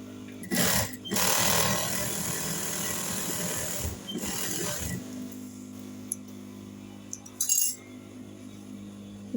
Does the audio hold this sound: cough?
no